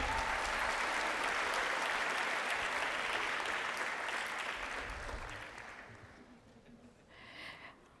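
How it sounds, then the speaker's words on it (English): Sustained applause from an audience at a school district awards night, loud and dense for several seconds before thinning and fading toward the end. "Let's give her another round of applause."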